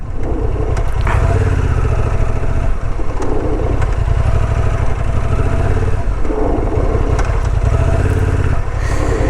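A Honda XL750 Transalp motorcycle rides off-road and brakes with only the rear brake. The engine drones loud and steady throughout, with rattling clatter from the bike close up.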